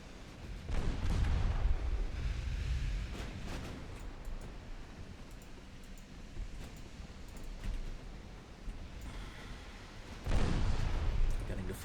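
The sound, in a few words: naval artillery gunfire in the video game Ultimate Admiral Dreadnoughts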